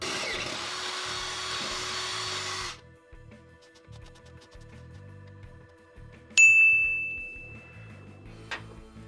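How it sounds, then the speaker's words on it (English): A 17/32 drill bit bores a hole during a front coilover suspension upgrade on a classic Mustang, starting as a loud grinding whir that cuts off, followed by softer motor hum and a sharp metallic ring partway through. "17/32 drill bit to drill to the final hole size"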